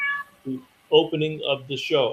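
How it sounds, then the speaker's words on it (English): A house cat lets out short meows close by, mixed in with a person talking on a call-in show. "No, that's my cat."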